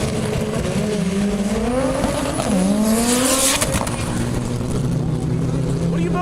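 A turbocharged drag race car accelerates with a loud, rising engine note that climbs through gears, while people talk and shout excitedly nearby over the roar.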